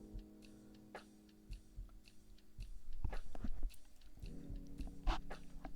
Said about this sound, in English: I'm taking another bite of muffin.